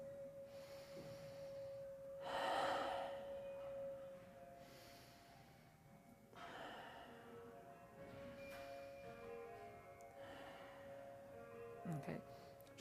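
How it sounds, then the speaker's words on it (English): Three slow, audible breaths taken during a qigong exercise, each a soft drawn-out airy swell spaced a few seconds apart, quiet against a faint steady tone in the room. "So let's take our 3 breaths first."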